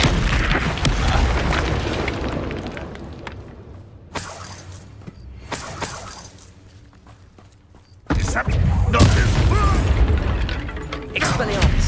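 Booming fire-spell blasts from the Incendio charm in Hogwarts Legacy, loud bursts and crackling impacts that swell, drop briefly and return, with a voice shouting over parts of the action.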